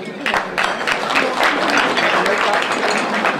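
An audience at an NAACP Martin Luther King Jr. breakfast claps steadily and densely for several seconds, the applause continuous and fairly loud, with some voices mixed in.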